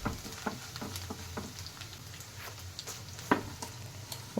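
Peeled garlic cloves and a whole sprig of curry leaves fry in oil, giving a steady close sizzle with crackling pops and occasional stirring clicks throughout, no voices.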